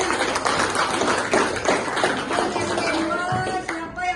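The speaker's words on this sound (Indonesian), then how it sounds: "Oke, tepuk tangan dulu untuk temannya" A classroom of pupils claps for a classmate, a busy burst of hand claps mixed with children's chatter and shouts, thinning toward the end.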